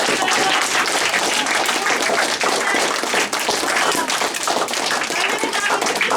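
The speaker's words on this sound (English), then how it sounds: "can we give Mr. Ehrlich a round of applause?" Sustained, dense applause from a school audience, loud and continuous for several seconds without letting up.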